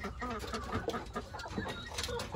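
Backyard garden chickens clucking in a busy, dense stretch of sound, moderately close, with steady broadband noise and possible faint voices mixed in throughout.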